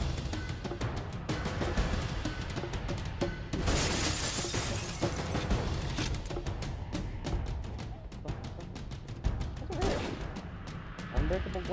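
Glass shattering in the shooter game Half-Life, mixed into a dense stretch of rapid crackling gunfire and impacts, loud and continuous for about twelve seconds, with a burst of breaking debris near the middle.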